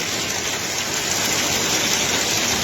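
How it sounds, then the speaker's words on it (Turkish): Heavy rain pours down steadily, a dense, continuous hiss of drops hitting surfaces close by, with no voices. "Çok büyük bir yağmur."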